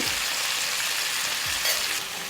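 Pork liver and onion frying in a pan, stirred from time to time, giving a steady, close, crackling sizzle throughout with no talking.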